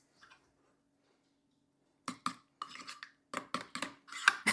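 Mustard sauce mixed with a spoon in a small dish, giving a quick run of close, crisp clinks and scrapes after a near-silent pause, with no voices over it.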